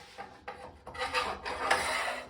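A miter gauge slides along a freshly cleaned, dry-lubricated cast-iron table saw top, producing a short, close rasping glide that swells and fades in a few quick strokes.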